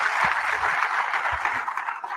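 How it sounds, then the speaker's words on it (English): Audience applause at a discussion event on Pakistan's courts: a steady, dense wash of many hands clapping at moderate distance, continuous for the whole stretch with no voices on top. "a big applause for that"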